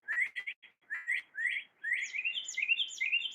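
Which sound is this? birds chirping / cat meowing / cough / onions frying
birds chirping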